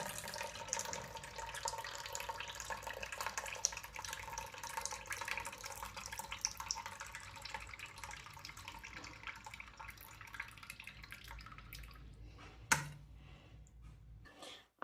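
Excess water drains off cooked spinach bhaji in a steady, close, continuous trickle and splash lasting most of the clip, ending with a sharp clunk of a vessel near the finish.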